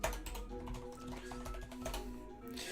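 Steady, fast typing on a computer keyboard during a computer game session, a dense run of close clicks over a faint background hum, with no voices.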